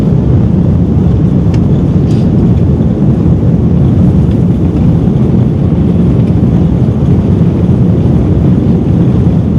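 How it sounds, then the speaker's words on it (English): Jet engines roar loudly and steadily in a continuous heavy rumble, filling the cabin without letup as the plane powers up. "Listen to those engines."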